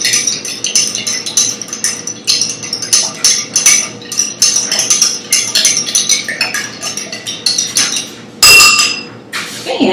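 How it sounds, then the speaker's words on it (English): A spoon stirs a borax mixture in a glass, clinking rapidly and repeatedly against the sides in quick bright taps, close and clear, ending with one sharper knock. "I need to stir this up"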